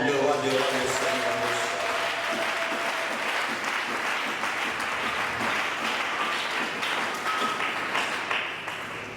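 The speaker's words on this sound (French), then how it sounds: "Acclamons le roi de rois, le Seigneur" A church congregation applauds steadily throughout, dense sustained clapping mixed with scattered cheers and a voice or music tones early on, loud and full before easing slightly at the end.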